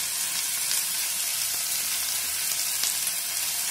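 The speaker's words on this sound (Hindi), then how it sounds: "प्याज और मटर दोनों भून गए हैं। अब इसमें अदरक, लहसुन, लौंग, इलायची का पेस्ट डालेंगे।" Onion, peas and a ginger, garlic, clove and cardamom paste frying in a pan for aloo dum, a steady close sizzle with a few faint stirring taps.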